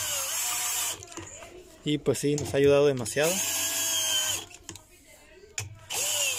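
A cordless power drill with a low battery whirs in brief bursts, briefly spinning up to a rising whine in a workshop while removing parts from a front-loading LG washing machine, under and between someone speaking Spanish.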